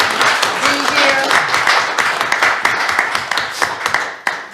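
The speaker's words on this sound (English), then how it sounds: "Come on, let's give them a round of applause." A burst of clapping from a crowd, quick and uneven hand claps that swell and then thin out toward the end.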